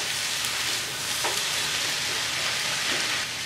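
Squash noodles sizzle in a pan over a medium-high burner, a steady broadband hiss with a few faint stirring knocks, close and continuous with no talk.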